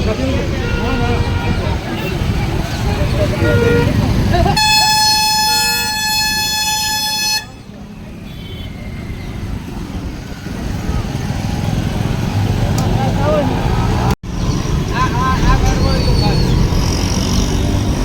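Heavy road traffic near a triple-vehicle accident site in Patan, Gujarat, with loud engines rumbling and a sustained car horn honking for a few seconds, under continuous talk nearby.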